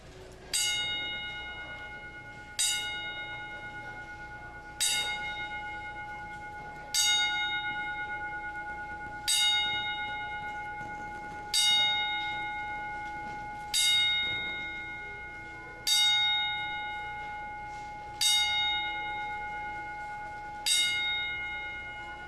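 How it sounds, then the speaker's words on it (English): Ten evenly spaced bell strikes ring out at a professional wrestling event, each clang loud and clear with a long ringing decay before the next, no talking over them. "we'd like to just pause for a second for a 10-bell salute"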